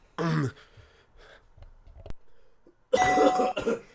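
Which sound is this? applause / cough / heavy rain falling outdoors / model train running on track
cough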